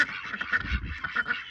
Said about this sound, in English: Started all these Peking ducks.